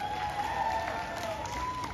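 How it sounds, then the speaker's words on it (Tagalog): Crowd at a political grand rally for a mayoral candidate in Kidapawan applauding and cheering, a steady dense wash of clapping and voices throughout, with a sustained whistle-like tone running over it. "kusog nga palakpak"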